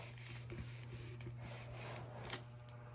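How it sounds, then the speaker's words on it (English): Hands rub thin parchment or printer paper around a glitter-covered tumbler, making a steady, soft scuffing and rasping that rises in brief swipes over a low electrical hum, close up and quiet. "Just rub your hands down the parchment paper or printer paper, whatever paper you have that's thin, and we'll roll around our tumbler really well"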